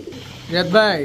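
Maxi racer pigeons and large Gola pigeons from Manikganj, a brief close burst of throaty cooing after a quiet start, with a voice heard alongside.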